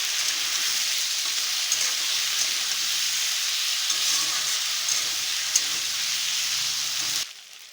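Steady, loud sizzling of ginger paste frying in a hot pan, a continuous hiss that cuts off abruptly near the end.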